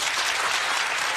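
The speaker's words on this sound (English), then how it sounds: "Applause." Studio audience on the Jerry Springer show breaks into dense, sustained applause, loud and steady throughout with no voices over it.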